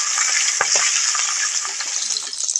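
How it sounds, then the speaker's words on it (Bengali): Fish fry in hot oil in a wok, with a loud, continuous bright sizzle and crackle close up, broken by a few brief stirring scrapes and spatters, and no voices. "মাছগুলো ভালো করে ভেজে নেব।"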